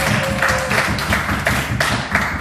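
Congregation members in a church clap in an even, brisk rhythm. The close, dense hand strikes repeat steadily from start to finish, with a faint murmur beneath.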